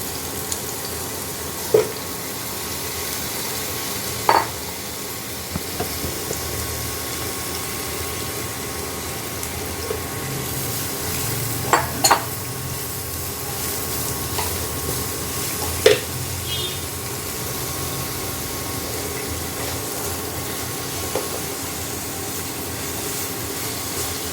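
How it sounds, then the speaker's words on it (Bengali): Cut potatoes fried in oil tempered with dried red chillies and bay leaves, stirred in the pan: a continuous close sizzle with occasional louder scrapes and clinks of a utensil at irregular intervals, no talk. "কেটে রাখা আলুগুলোকে ভেজে নেব।"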